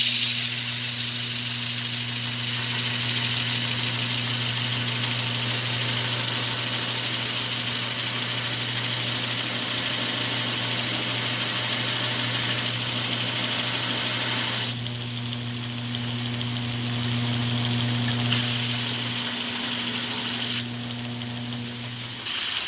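A homemade 2x72 knife-making belt sander's motor runs continuously, a steady near hum with strong tonal bands and a constant hiss, dipping slightly in level twice near the end, with no voices.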